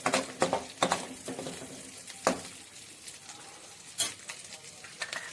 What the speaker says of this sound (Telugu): ఇప్పుడు ఈ అల్లము, ఎల్లిపాయలు తురుముకున్నవి వేసి మంచిగా ఇలాగా ఫ్రై చేద్దాం